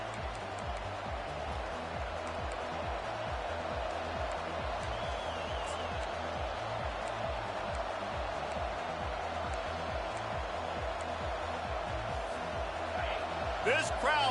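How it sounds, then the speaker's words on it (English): A stadium crowd roars steadily in College Football 25 before a Tennessee–North Carolina kickoff, a loud continuous wash of cheering and noise that holds from start to finish, with a play-by-play voice talking over it. "This crowd trying to show them what it's going to be like all day in this house"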